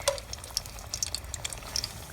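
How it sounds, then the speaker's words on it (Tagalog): Soft crackling and sizzling of eggplant frying in hot oil outdoors, with scattered sharp pops over a steady low hiss. "Prito tayo ng talong ngayon."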